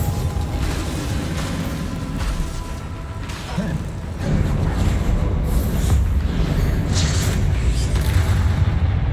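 Bombarda spell explosions from Hogwarts Legacy rumble and boom in a sustained, loud barrage, with a heavier burst around the midpoint and crackling debris throughout.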